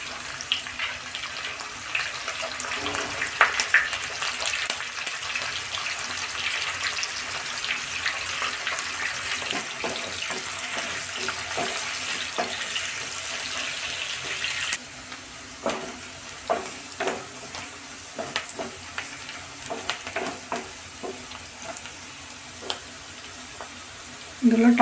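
Onions and chana dal frying in a pan for bitter gourd (kakarakaya) fry, giving a steady hiss and sizzle with occasional stirring scrapes and clicks, close and continuous with no talk.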